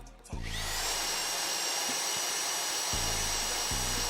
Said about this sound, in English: once I finish drilling all this rock